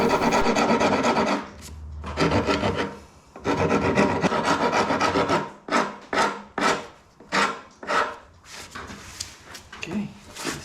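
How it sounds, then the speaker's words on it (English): A hand wood rasp shaping the tip of a wooden Greenland paddle, rough scraping strokes in long bursts at first, then shorter rhythmic rasping passes, close and loud with no talking. "I then use a wood rasp file to trim the tip of the paddle to shape."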